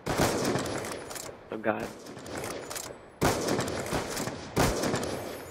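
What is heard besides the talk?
gunshots in a video game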